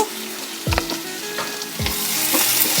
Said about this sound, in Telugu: నేను వేసిన ఉల్లిపాయ ముక్కలు చక్కగా వేగుతున్నాయి